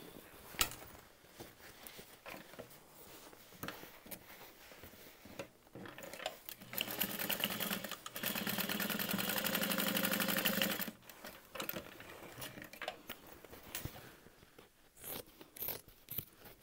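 Sewing machine stitching a structured tote bag, a steady whirring run of a few seconds in the middle, framed by quieter handling clicks and rustles before and after.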